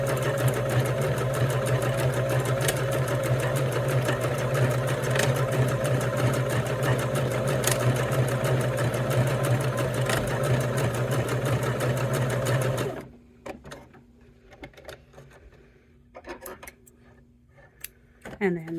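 A sewing machine runs front and back stitches across a cork coaster, a loud steady close mechanical whir for most of the stretch, then it stops, leaving quiet handling clicks and brief rustles.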